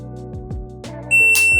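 A shooting-range shot timer gives a single high, steady electronic beep at pistol practice, loud and close, ringing out alone for about half a second near the end after low background rumble.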